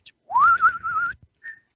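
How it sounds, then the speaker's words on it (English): A person whistles a short tune, a clear rising then wavering note followed by a brief second chirp, close and loud against silence. "We're gonna get copyright strikes for whistling it."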